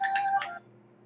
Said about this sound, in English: excuse me there, that was a phone call